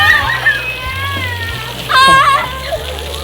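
Children play and splash at a new outdoor splash pad during a Cornwall holiday, with water spraying and pattering steadily under their nearby chatter and excited voices.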